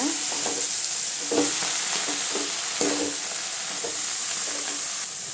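Greens being sautéed in a pan with tomato for a paruppu keerai koottu, a steady sizzle under repeated stirring scrapes every second or so, close and moderately loud, with no talking.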